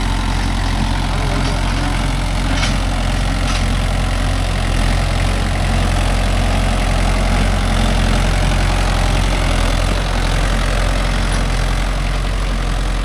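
A Mahindra Yuvo Tech Plus 585 4WD tractor working with a nine-tine cultivator, its diesel engine holding a loud, steady low drone with no letup, close by and free of talk.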